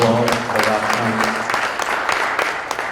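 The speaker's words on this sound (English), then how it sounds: "Up on that round of applause" Audience applause for a speaker at an elders' honoring event, a dense burst of many hands clapping close to the microphone, starting under a voice that is still speaking and then continuing on its own.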